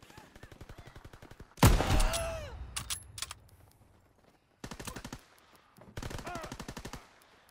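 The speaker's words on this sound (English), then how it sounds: "Fighter pilot inbound, strafing the target." Call of Duty WW2 video game aircraft strafing run, with rapid machine-gun bursts in long rattling strings, a loud impact burst with ringing debris, then two more sharp volleys, all close and loud.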